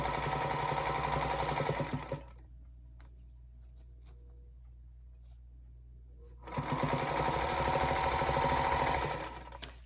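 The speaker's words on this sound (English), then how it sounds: "now I'm going to stitch down this edge" Sewing machine stitching down the edge of a quilt block: a loud, steady run of stitching for about two seconds, a quiet pause, then a second sustained burst, heard close up with no talking.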